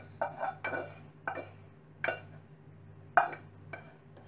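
Metal pot clanks and scrapes as rested anchovy pilaf is tipped out of it, with five or six short, sharp knocks spaced irregularly over a low steady hum.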